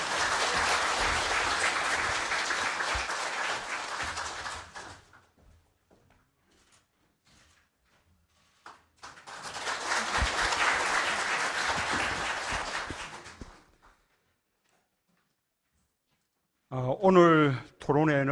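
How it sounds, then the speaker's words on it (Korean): An audience at a public housing policy forum welcomes the party leader to the stage with applause, two separate bursts of clapping broken by near silence, followed by a brief stretch of speech at the end. "큰 박수로 맞이해 주시기 바랍니다."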